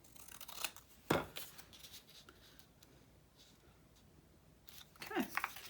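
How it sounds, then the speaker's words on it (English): Scissors snip through paper for a collage, giving a few faint, quiet cuts near the start and again at the end against a soft background. "Let's cut it there and cut a little bit more."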